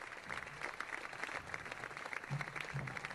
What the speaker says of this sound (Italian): un applauso per Davide Carmelo Maria Ortisi